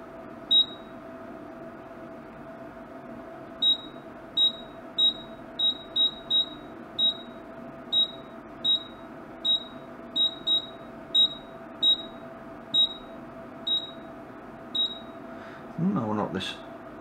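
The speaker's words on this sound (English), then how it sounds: "And it's beeping, so the button's working." The control unit of a faulty McHale 868 square bale wrapper emits short, clear electronic beeps, one per button press at an uneven pace, over a steady low hum; a person talks nearby and a handling rustle closes the sequence.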